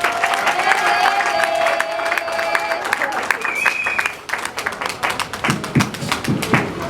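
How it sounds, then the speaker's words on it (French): A church congregation claps and cheers in a dense, steady burst of applause, with voices mixed in and a few heavier thumps toward the end. "Nous encourageons Papa Basile avec des acclamations."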